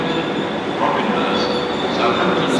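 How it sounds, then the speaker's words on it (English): A South Western Railway train pulls into Bournemouth station with a steady, loud rumble of wheels and carriages and faint squealing, close to the platform. "arriving now is going to be the 1522 Southwest train service to Weymouth from London Waterloo"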